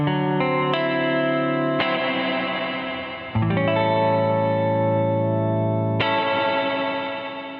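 A Catalinbread Soft Focus reverb pedal wraps sustained guitar chords in a wash of lush, shimmering reverb. The chords swell and change several times over a continuous, loud ambient wash.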